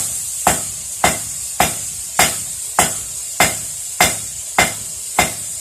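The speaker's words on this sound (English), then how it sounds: "We're just taking and letting the hammer do the work" Heavy hammer blows strike hot steel while forging meat skewers, in a steady rhythm, about one every half second, each a sharp ringing clang with a brief decay.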